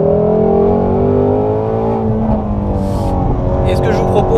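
A Ford Mustang Shelby GT350R with a high-revving V8 winds up on a track, a sustained engine tone climbing and shifting under a voice speaking French.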